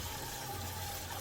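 Cold water flows from a faucet fitted with a colour-changing LED temperature tap light, a soft, steady rushing stream at low level, alone.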